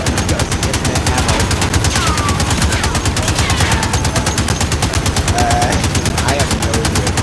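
Continuous rapid automatic gunfire from the video game Call of Duty Modern Warfare, a steady unbroken stream of loud shots with the trigger held down, faint game sounds in the background.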